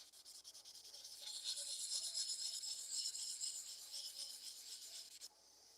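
Hand polishing a small object, heard as a soft, steady rasping rub with a gentle rhythm that builds and then cuts off near the end, quiet and close with no voices.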